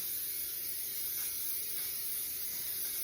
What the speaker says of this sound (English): I'm going to spray it with a little bit of non-stick spray.